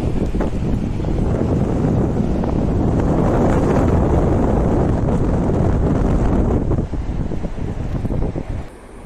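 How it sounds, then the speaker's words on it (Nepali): Strong wind along a riverbank, buffeting the microphone in a loud continuous roar that eases slightly near the end. "यस्तो हावा छ कि, हावा पानी।"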